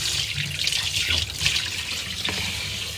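Tap water runs steadily into a sink as fresh fish is rinsed for a Sambalpuri fish curry, a continuous close splashing hiss with small splatters and no talking.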